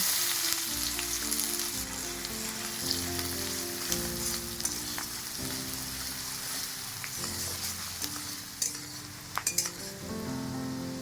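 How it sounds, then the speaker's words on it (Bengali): Chopped onions frying in hot oil seasoned with bay leaf and cumin, a continuous close sizzle with intermittent stirring and a few light metallic clinks toward the end. "এবার কুচিয়ে রাখা পেঁয়াজ দিয়ে দেবো"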